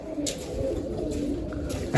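Pigeons coo in soft, repeated low calls close by, with a few brief higher chirps over a steady background murmur.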